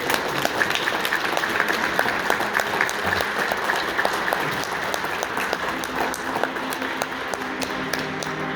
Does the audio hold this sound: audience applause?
yes